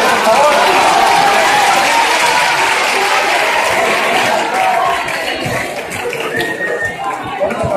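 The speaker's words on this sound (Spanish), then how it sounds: "Un fuerte aplauso para ella, por favor." A crowd at a live science show in Bilbao claps loudly in a sustained, dense round of applause that gradually thins toward the end, with voices heard over it.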